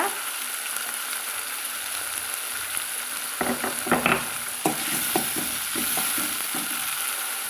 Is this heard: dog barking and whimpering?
no